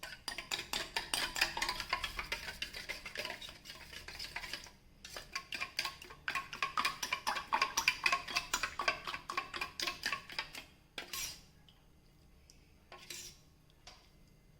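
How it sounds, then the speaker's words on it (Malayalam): A spoon stirs sugar into a Bombay toast egg mixture in a bowl, quick rhythmic clinking and scraping against the sides that slows and fades into near silence, with a couple of final taps. "പഞ്ചസാര ചേർത്ത് നന്നായിട്ട് മിക്സ് ചെയ്യുന്നുണ്ട്."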